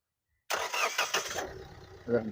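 Engine of a 2017 Hyundai Creta 1.6 SX car cranking and catching, then settling into a steady idle with a small rev near the end, loud and close, with a voice speaking nearby.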